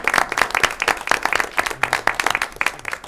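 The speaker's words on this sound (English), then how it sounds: "Let's give them a round of applause" A room full of people claps at a school board meeting as honored parents stand, with dense, irregular hand claps sounding loud and close for the whole stretch and no talk over them.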